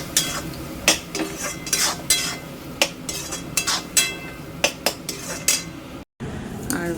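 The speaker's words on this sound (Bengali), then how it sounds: "এই যে মশলা কষাচ্ছি" Spices stir-fried in a pan for a simple home-cooked Bengali meal: a steady close sizzle broken by repeated sharp metal clinks and scrapes of a spatula against the pan, with a brief silent gap near the end.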